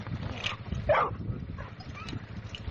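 A brood bitch on a dog breeding yard gives short barks and yips, one at a time with gaps, close to the listener and clear over low outdoor rumble and faint background noise.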